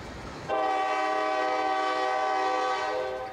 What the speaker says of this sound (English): This empty coal train is a road job, and the crew's just arrived from staging yard